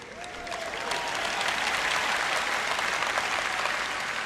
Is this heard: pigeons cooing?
no